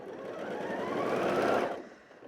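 A sewing machine starts quilting crisscross lines on a boho junk quilt, giving a short close whirring burst that swells and then stops.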